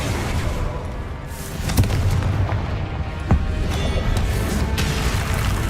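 Hogwarts Legacy spell combat with rumbling magical blasts and booming impacts layered over a dense, roaring game mix, with sharp thumps standing out now and then.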